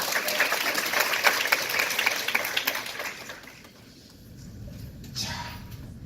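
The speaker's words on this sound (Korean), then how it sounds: "박수 한번 부탁드릴게요." An audience claps at a sold-out corporate lecture, with steady applause for about three seconds that then thins out and fades into quieter room noise.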